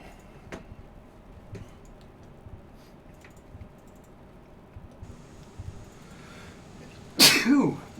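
A single sharp human sneeze bursts out loudly near the end, after a stretch of quiet room noise and faint clicks.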